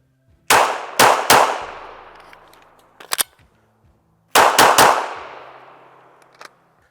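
A PSA Dagger pistol fires three sharp, loud shots in quick succession with ringing decay, then after a metallic clack and a pause fires three more rapid shots, followed by a faint click.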